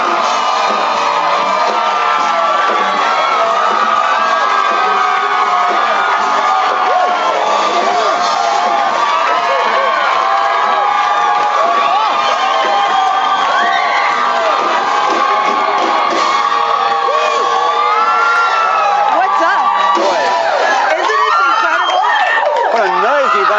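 Studio audience cheering, whooping and shouting for INXS members Kirk Pengilly and Tim Farriss on a 1992 television show, loud and sustained throughout without letup.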